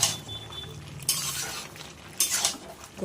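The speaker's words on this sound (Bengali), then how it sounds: "এবার এটাকে ভালো করে নেড়ে দেবো।" A spoon stirs spices into a mixed vegetable pachon in a pan, with clinks and scrapes at a few points and a soft sizzle underneath, close and without talk.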